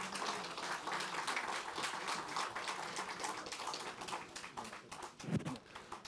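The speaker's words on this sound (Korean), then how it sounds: "큰 박수로 축하해 주시기 바랍니다." Sustained applause from a crowd of lawmakers at a People Power Party caucus meeting electing a deputy speaker and committee chairs, dense steady clapping filling the room with a brief louder thump near the end.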